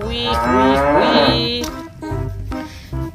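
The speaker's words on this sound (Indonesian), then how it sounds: "Ada hewan sapi, teman-teman. Sapi mo." A cow moos loudly and close by in one long, drawn-out call, followed by a few shorter lowing sounds, with no talking over it.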